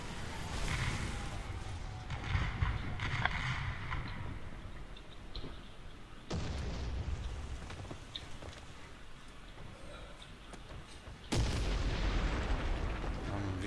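Artillery fire in a tank video game, with booming blasts and broadband bursts around 6 and 11 seconds over continuous battle rumble, mixed with faint talk.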